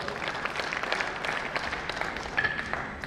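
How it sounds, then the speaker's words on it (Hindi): An audience at a Gurjar parliamentary conference welcomes guests on stage with steady applause, fairly distant and moderate, with scattered claps and faint crowd murmur underneath. "उनका भी जोरदार तालियों से स्वागत करते रहे जोश के साथ"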